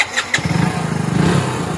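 A new Hero Splendor Plus BS6 motorcycle cranks over on its electric self-starter, two quick starter whirs, then catches into a steady, close, pulsing single-cylinder idle that runs to the end.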